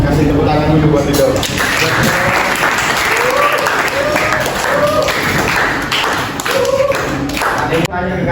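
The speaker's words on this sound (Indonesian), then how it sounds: "Sekarang kasih tepuk tangan dulu buat Ridho." A classroom of students claps for a classmate, loud dense applause that carries on steadily for several seconds, with some voices mixed into the clapping.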